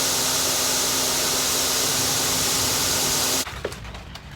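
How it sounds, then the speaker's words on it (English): Belt grinder running steadily for about three and a half seconds, grinding the pins of a knife handle with a 120 grit belt. The broadband whir is loud and constant, then stops abruptly, leaving quieter shop sounds. "the first thing we're going to do is grind those pins and get 120 grit scratches in it"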